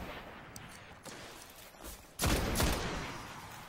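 A gun fires in the video game Destiny: quiet ambience first, then a sudden loud burst of shots near the end that fades back down.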